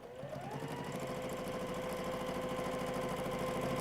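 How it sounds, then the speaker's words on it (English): A sewing machine free-motion quilts an S-shaped line, running at a steady, continuous stitching rhythm with a busy mechanical whir that holds without pause throughout, close and loud, with no talking. "Now I'm going to quilt this long design"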